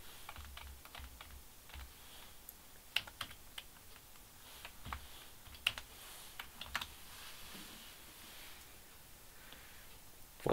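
Steady typing on a computer keyboard while HTML code is entered, with irregular clicks and occasional sharper key strikes, close and fairly quiet, no voices.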